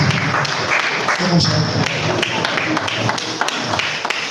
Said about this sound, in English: Can we give a round of applause to the Dr. Engineer Olitosi?